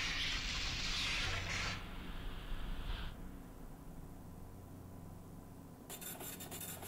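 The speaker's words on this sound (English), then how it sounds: "That is the sound of someone printing a ticket." A ticket prints in the video game Space Station 13, a loud rasping, scratchy whir in two stretches followed by steady low background hum, with no talking.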